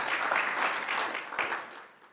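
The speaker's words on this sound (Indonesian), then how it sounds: "Beri dulu tepuk tangan bagi Tuhan Yesus." A church congregation at a Sunday afternoon service claps in praise, a dense, full burst of many hands that swells and then slowly fades over about two seconds.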